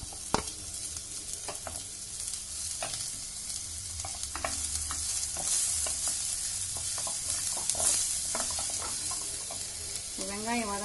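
Chopped onions and curry leaves fry in butter and oil, a steady crackling sizzle close by, broken by scraping stirs, with a brief voice near the end.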